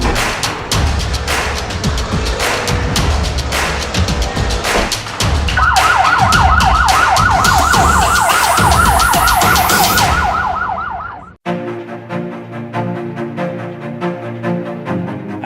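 An ambulance siren wails loudly and close, rising and falling in repeated sweeps over traffic rumble, then cuts off abruptly as a different ringing tone continues.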